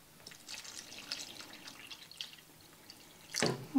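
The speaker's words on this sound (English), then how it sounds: "I'm going to be adding some water." Water drips and splashes as it is poured into a pot for chicken soup, soft trickling with scattered drops, then a louder brief gush near the end.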